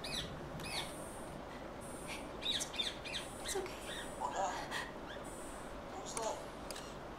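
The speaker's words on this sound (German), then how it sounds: "Tatsächlich, ein kleiner Vogel." A small bird calls in the video game République, a few faint squawky chirps scattered over a low ambient hum while people talk now and then.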